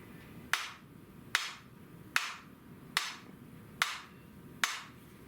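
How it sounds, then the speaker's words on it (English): A hammer taps on the butt plate of a new stock being fitted to a Winchester 1876 Centennial rifle, with six evenly spaced, sharp, close blows about a second apart. "So I'm safe hammering on this."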